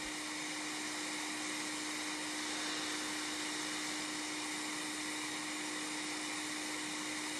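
Hot air rework station blowing a steady jet of air through its nozzle while desoldering SMD components, a constant loud hiss with a fan-like whine running unbroken throughout, no talking.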